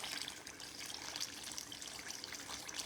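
Water pours steadily into a salt mixture, a continuous broadband trickle and splash with no pauses, close and moderately loud, without any talking.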